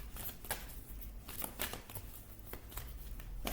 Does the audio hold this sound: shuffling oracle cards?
yes